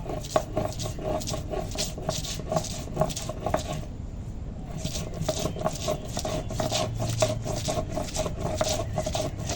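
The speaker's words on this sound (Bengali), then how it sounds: "সবটা পেঁয়াজ এখন বেটে নেব" Onions being ground into paste by hand, likely on a grinding stone, for a chicken chaap dish, giving a steady close rasping and rubbing in repeated strokes with a brief pause midway, no talk.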